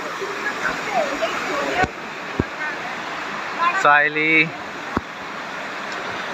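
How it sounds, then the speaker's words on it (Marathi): Small waterfalls in a national park, running low on water, give off a steady, even rush that continues throughout. A person briefly calls out a name over it, and a few sharp knocks sound nearby. "छोटे छोटे वॉटरफॉल आहे आणि पाऊस नसल्यामुळे पाणी पण एवढं नाही आहे."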